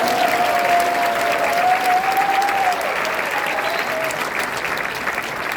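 Sustained applause from a church congregation at a Sunday evening service, honoring an elder; steady, fairly loud clapping with a faint tonal line running through the first half, no talk over it.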